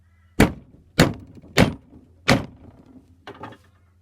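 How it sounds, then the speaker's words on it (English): A steel chisel struck repeatedly with a mallet while fixing a scrap piece for an antique chisel restoration: five sharp, loud knocks at irregular spacing, each with a short ringing tail, close and with no talk. "you just get the chisel and just whack it with your mallet."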